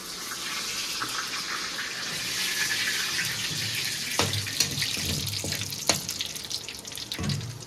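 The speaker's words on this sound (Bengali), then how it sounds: "ওই তেলের মধ্যেই ফোড়নে দিয়ে দিচ্ছি শুকনো লঙ্কা আর দারচিনি" Dried red chillies and cinnamon temper in hot oil for a restaurant-style chicken kosha, giving a steady, moderately loud hiss with a few sharp clicks and pops toward the end.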